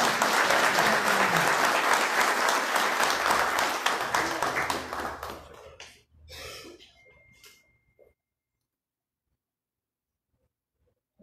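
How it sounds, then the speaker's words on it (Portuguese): Applause at a municipal council ceremony awarding honorary citizenship titles: dense, loud crowd clapping that holds for several seconds, then thins out and stops, followed by silence. "Eu também peço uma salva de palmas para o doutor Jefferson."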